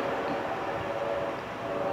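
An orange train passes by with a steady, continuous rumble and a faint ringing tone held over it, moderately loud and unbroken, with no voices.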